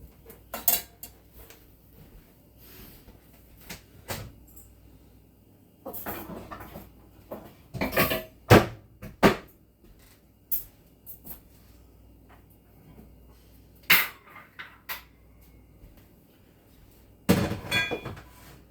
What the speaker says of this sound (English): Getting another baking pan ready, or baking rack ready for them, so that I can cool them off.